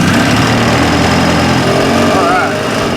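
Polaris 800 engine with a stuck oil pressure relief valve running in a repair shop, a loud dense buzzing roar held steady for a few seconds before a slight rise in pitch as it revs.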